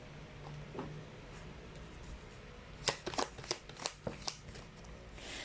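A deck of tarot cards is shuffled close by, first faint handling, then a quick run of crisp riffling flicks and slaps in an uneven burst lasting a couple of seconds.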